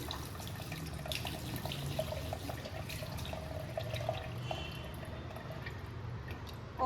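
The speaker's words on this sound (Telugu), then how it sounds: "హ్యాండ్స్ వాష్ చేసుకున్నాక ఫస్ట్ ఫేస్ మొత్తం వెట్ చేసుకోవాలి." Water splashing at a sink as a face is wetted after handwashing, a quiet, steady wash of running water with small splashes and drips, no voices.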